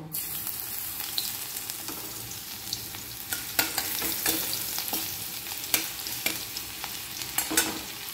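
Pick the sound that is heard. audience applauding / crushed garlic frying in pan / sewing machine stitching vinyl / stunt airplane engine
crushed garlic frying in pan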